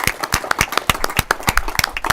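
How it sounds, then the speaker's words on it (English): A small group at a state House committee hearing claps in a quick, uneven rhythm, sharp close hand claps repeating throughout without any voices. "so let's give them a round of applause"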